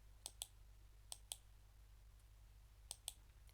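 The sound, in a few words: clicking with the control key held to select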